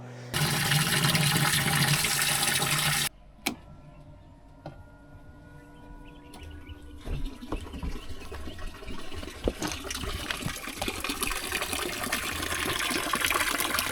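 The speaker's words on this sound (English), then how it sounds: "the bilge pump does work" A sailboat's bilge pump sends a loud rush of water gushing for about three seconds, then stops abruptly, followed by quieter trickling, splashing and faint mechanical noises.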